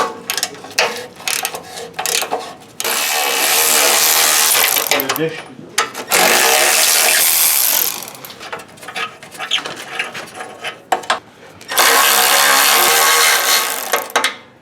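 Ratchet removing 15 mm nuts from an exhaust flange under a Thirdgen car: bursts of rapid close clicking alternate with pauses and handling noises, loud and near, with no voices.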